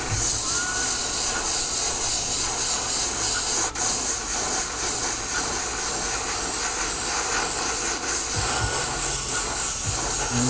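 An airbrush sprays yellow sealer in light coats onto a 3D printed scorpion mask, giving a loud, steady, close hiss that runs unbroken throughout.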